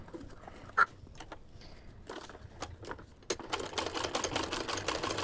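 A home sewing machine stitching a straight lock stitch, quiet scattered clicks at first, then a steady rapid whirring run that grows louder toward the end, close by with no talking.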